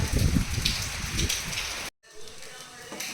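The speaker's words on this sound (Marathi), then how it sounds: "भरपूर पाऊस पडू राहिला आहे" Heavy rain pours down outdoors beside a parked motorcycle, a dense loud hiss of drops hitting surfaces, briefly cutting out near the middle before resuming more softly.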